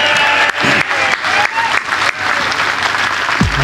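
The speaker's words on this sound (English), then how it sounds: "Give a round of applause for James Glancy." Loud, dense applause from a political rally crowd at a Brexit Party event in Newton Abbot fills the clip steadily from start to finish, with no speech over it.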